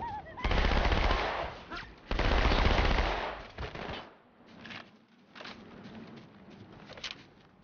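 SMG gunfire in Halo 2 Anniversary comes as two loud sustained automatic bursts, followed by quieter scattered shots and game noise.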